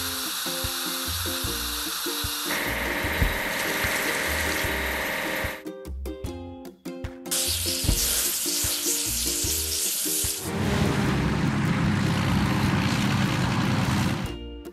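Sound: water spraying while washing an auger truck in a kids' truck video game

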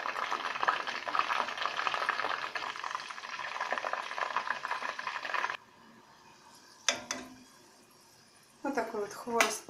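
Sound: khvorost dough frying in hot oil

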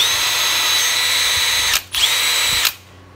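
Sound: Milwaukee M12 cordless drill drilling

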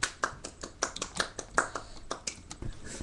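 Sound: hand clap

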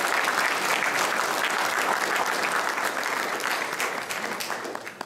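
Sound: audience applause

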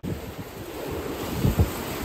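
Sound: strong wind and huge ocean waves during a squall at sea

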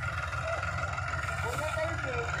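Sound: tractors pulling a stuck combine harvester

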